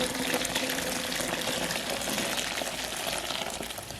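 Chicken bone broth pours through a strainer into a sink, a steady close splashing trickle of liquid with a faint hiss, continuous throughout without speech.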